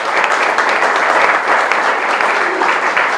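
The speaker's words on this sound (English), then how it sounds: "So for that, we applaud you," Loud, sustained audience applause at an award ceremony honoring an artist, thick even clapping throughout with no break.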